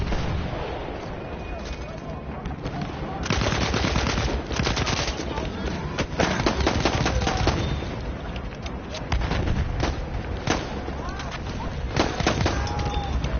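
Rapid bursts of World War I–era gunfire crack through a Battlefield 1 match, including M1911 pistol shots, with distant explosions and a continuous battle din; someone talks over the shooting.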